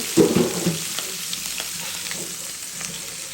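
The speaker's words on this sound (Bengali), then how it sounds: "এখন রুই মাছের পিসগুলো ভাজা হচ্ছে" Rohu fish pieces fry in hot oil with a close, steady sizzle and a few soft clinks of a utensil at the start.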